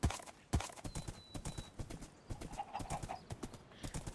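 Video game horse hooves clip-clopping in a quick, steady trot, each hoof strike crisp and close, with a short whinny partway through and no talk over it.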